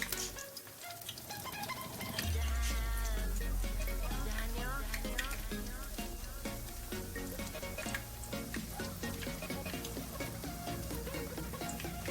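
Dough drops into hot oil with a burst of loud, crackling sizzle that keeps bubbling steadily, with a light clatter of utensils.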